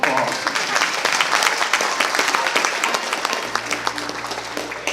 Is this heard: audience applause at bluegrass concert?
yes